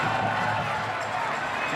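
Stadium crowd at a U.S. Open Cup semifinal soccer match between Seattle Sounders FC and Chicago Fire, a steady broad roar of cheering rising from the stands after a tackle, dense and continuous with no single voices standing out.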